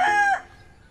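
The loud, drawn-out tail of a rooster's crow, nearby in the Philippines, fading quickly into quiet.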